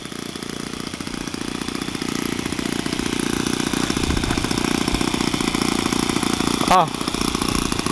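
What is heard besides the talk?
four-stroke engine of a Coroplast model plane running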